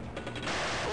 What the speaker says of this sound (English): Let's see what the grenade will do.